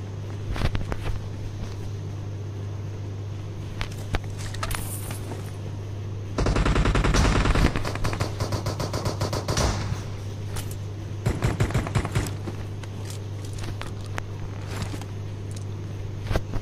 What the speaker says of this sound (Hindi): गन फाइट हो गई क्या?